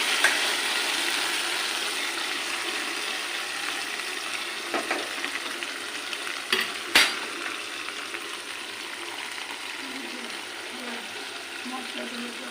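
Hilsa fish, coated in spices and tempered with black cumin seeds, sizzles steadily in a hot pan, a continuous close frying hiss with brief stirring clatter midway and a voice talking softly under it.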